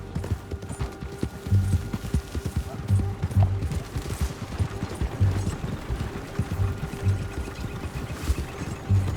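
Rhythmic thudding hoofbeats of a horse galloping in the video game Red Dead Redemption 2, steady and close for the whole stretch, with a rider's voice over it.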